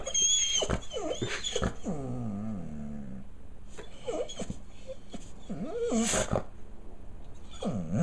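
A pet dog reacting to a mailman at the door, with whines, yips and short excited vocal bursts spread across the clip, close and fairly loud, and no clear speech.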